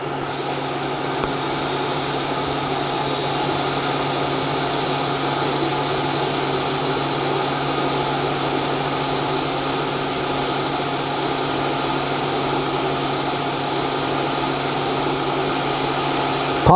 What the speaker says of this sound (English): This will be a full penetration butt weld.